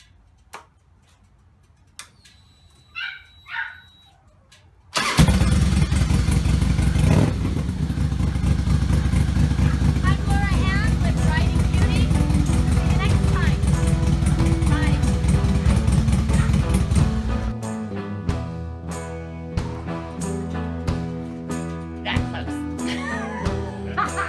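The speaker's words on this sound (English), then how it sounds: "after we do the spark plugs, we're gonna start her up and see how she fires." A motorcycle is started after a spark plug change and then runs, its loud, steady engine note holding for about twelve seconds before dropping to quieter uneven clatter; a few soft knocks and taps come before it fires.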